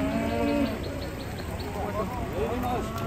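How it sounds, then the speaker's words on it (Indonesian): A giant cow lows loudly and close, a drawn-out moo over a crowded outdoor scene where people chatter throughout. "Sapinya raksasa, guys."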